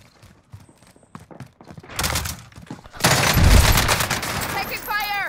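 Gunfire in a first-person shooter game where a Kar98 rifle is used: scattered shots at first, then dense loud bursts of automatic fire, with a voice shouting over the shooting.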